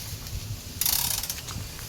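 A Dr. Micrometer torque wrench works a motorcycle swing arm bolt. Low mechanical rumble leads into a burst of quick, close ratcheting clicks that carries on in a steady rapid rhythm, with no talk.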